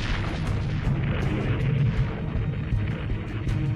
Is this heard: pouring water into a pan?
no